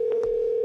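A steady electronic telephone tone on a Google Voice call, one clean sustained beep held throughout, loud and close, with a couple of faint clicks near the start.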